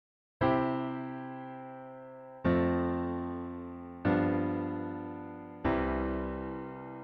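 Four sustained piano chords struck one after another, each ringing out and slowly decaying before the next, with no voices.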